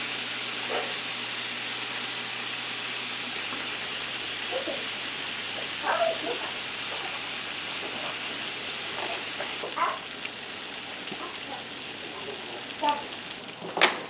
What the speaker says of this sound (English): Gotta stir my sausage.